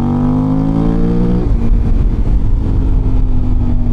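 Aprilia Tuareg motorcycle fitted with a Dominator HP6 exhaust and decibel killer, idling steadily and then rising into a louder, rougher throttle roar about halfway through, close and continuous with no talk.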